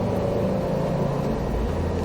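A Subaru WRX STI accelerates on a track during a driving course, its engine holding a loud, steady, close-up roar for a brief stretch without talk.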